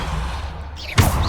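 A Depulso force spell in Hogwarts Legacy lands with a sudden whooshing slam and heavy thud near the end, after a low ambient game hum.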